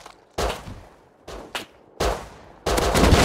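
Gunshots in the Rust video game, fired in separate loud bursts with short gaps between them, then a longer sustained volley at the end, with no talk over them.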